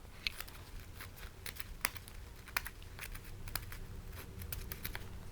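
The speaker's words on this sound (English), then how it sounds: "All right, so now we're gonna cut this part off." Scissors snipping through lightweight tent fabric for an ultralight single-walled two-person tent, a few sharp crisp cuts scattered among soft crinkling, quiet and close with no talking.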